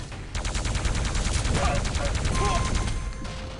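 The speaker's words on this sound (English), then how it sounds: "Back down to the machine gun." Rapid, evenly spaced machine gun fire in the Quake Live arena shooter duel, a dense unbroken burst of many quick shots lasting about three seconds, with brief tonal game effects mixed in.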